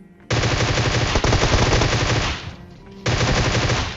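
Rapid automatic gunfire rattles in the battle game PUBG, a loud, dense burst lasting over two seconds, then a brief lull before another burst begins.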